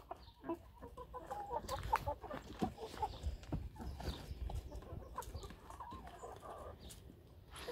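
Chickens, including young birds, clucking and murmuring close by in scattered short calls over soft scratching and rustling, with no talk.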